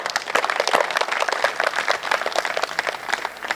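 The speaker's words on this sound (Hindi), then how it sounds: "ताली बजाओ।" A dense, steady round of audience clapping at a Hindi poetry recital, many hands beating fast and close for several seconds with little talk.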